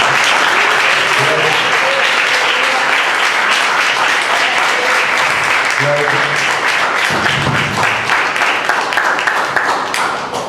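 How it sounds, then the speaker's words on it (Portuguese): A church congregation claps at a Portuguese-language service, applause sustained and loud from start to end, dense and steady before fading slightly at the close. "Irmãos, dá uma salva de palmas para os nossos irmãos."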